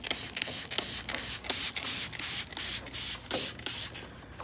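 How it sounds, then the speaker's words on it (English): Pre-soak cleaner is sprayed onto a motorcycle in a quick series of about a dozen sharp, hissing trigger-sprayer bursts up close, with no talking. "You can kind of see when you spray how it pulls the dirt off."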